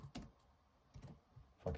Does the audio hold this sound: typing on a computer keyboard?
yes